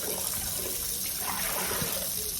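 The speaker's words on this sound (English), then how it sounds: "bowl fill up with the cold water, and then I drain it off. That's how I wash my ground beef" Steady running water pours and splashes into a bowl as cold rinse water is drained off raw ground beef, a continuous wash of sound close by with no talk.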